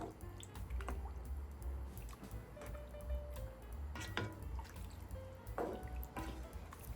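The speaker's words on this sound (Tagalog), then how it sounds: "Mga 1/4 cup na soy sauce ang dinagdag natin at 3 cups na pineapple juice." Soy sauce and pineapple juice being poured into a pot of pork belly: quiet wet dripping and splashing with scattered ticks and clinks, close and faint, no talk.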